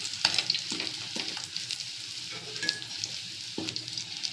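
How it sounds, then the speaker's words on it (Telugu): Fish frying in hot mustard oil for a summer fish curry, a continuous sizzle with intermittent scraping and stirring clatters from a utensil in the pan, close and clear with no talking. "మస్టర్డ్ ఆయిల్లో ఫిష్ ఇలా ఫ్రై అవ్వాలండి"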